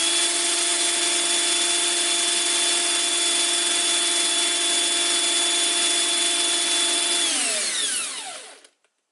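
A drill spins an electric motor at a constant high speed, giving a steady whine with sustained tones for several seconds before it winds down and stops.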